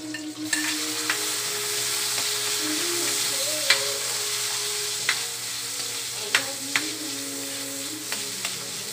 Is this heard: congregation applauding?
no